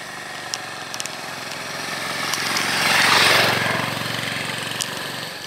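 A motorcycle engine drones steadily on a road in Nepal, swelling as it is overtaken close by and then fading slightly, with a continuous buzzing rumble throughout.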